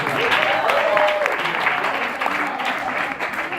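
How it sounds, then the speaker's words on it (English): An audience at a live stage show gives steady, dense applause, continuous throughout with some voices mixed in. "we give a round of applause for Olive right here"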